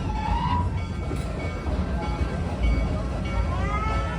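The Busch Gardens Tampa Bay Serengeti tour train rolls along with a steady, loud rumble and faint rail clatter that never lets up.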